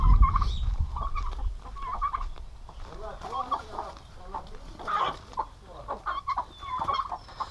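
Free-range chickens and guinea fowl squabble outdoors with a turkey nearby, giving a steady mix of loud clucks, squawks and gobbling calls rising and falling throughout.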